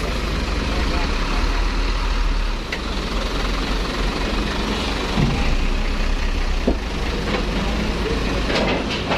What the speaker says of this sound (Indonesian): Nah, ini ada truk,